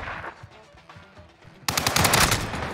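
Loud burst of automatic gunfire from a headshot in the video game Warzone, erupting suddenly after a quieter stretch and sustaining rapid, dense shots to the end.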